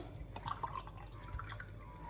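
Water pours into a bowl while banana zlabia batter is being prepared, giving soft dripping and splashing sounds at low level in a quiet kitchen.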